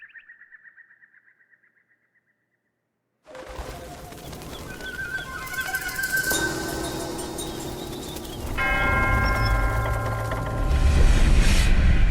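A bell rings out in the action game Black Myth Wukong after a quiet pause, with sustained resonant tones layered over game ambience that grows fuller and louder toward the end.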